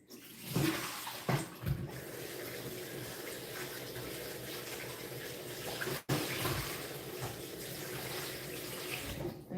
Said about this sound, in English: So now I'm going to just rinse it right quick.